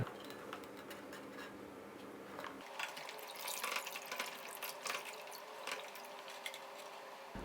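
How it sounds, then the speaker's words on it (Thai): Running tap water splashes steadily over eggshells being rinsed in a sink, a continuous close wash with a brief lull partway through, with no one speaking. "ขั้นตอนนี้นะครับให้เราล้างเปลือกไข่ของเราให้สะอาดเลยนะครับ"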